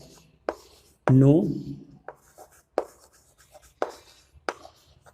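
Marker or chalk writing on a board during a chemistry lesson on ligands, scattered short taps and strokes mixed with a teacher speaking.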